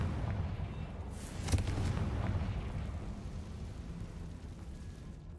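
Confringo fire blast spell in Hogwarts Legacy: a sharp explosive burst rises from a rumbling, crackling bed of noise, then fades over several seconds.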